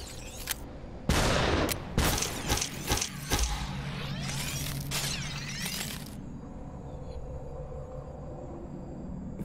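Gunshots in the video game Superhot: a series of sharp, loud, close shots in an irregular rhythm, mixed with crisp shattering sounds, then falling away to a quiet hum.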